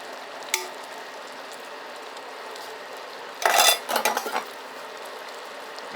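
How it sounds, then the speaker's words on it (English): Tomatoes are chopped into big chunks on a cutting board for American goulash. A quick cluster of sharp, close knife knocks sounds midway, with one earlier tap and a quiet room in between. "what I want to do with these tomatoes is just chop them up into"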